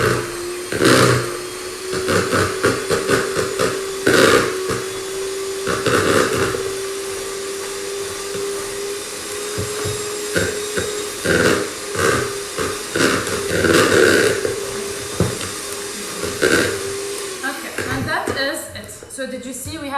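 An electric mixer works butter into dry cake ingredients, a steady mid-pitched motor hum running for most of the stretch beneath frequent talking and clatter, fading out near the end.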